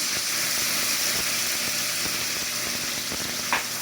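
Vodka sizzles vigorously in a hot pan for vodka sauce, a steady loud hiss with faint crackles and a brief clink near the end.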